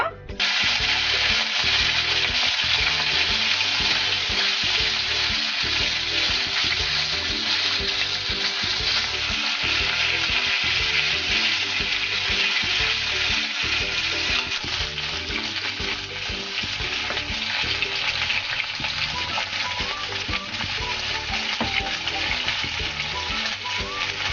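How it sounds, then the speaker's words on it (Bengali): Rui fish fries in hot mustard oil, giving a steady, loud, unbroken sizzle that runs the whole time with no voice over it. "আমার তেল গরম হয়ে গেছে, মাছটা আমি এখন ভেজে নেব।"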